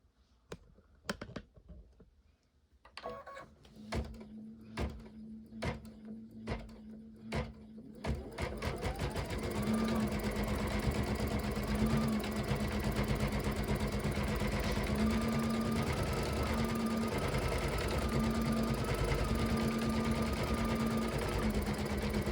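A sewing machine quilts edge to edge with a smooth quilting foot. It starts with separate clicks and short stitch bursts, then settles into a continuous, steady mechanical hum with a fast stitching rhythm, close and moderately loud, with no talk.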